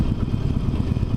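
A Harley-Davidson Forty-Eight V-twin motorcycle engine runs while riding, giving a close, steady, low rumbling throb with no voices.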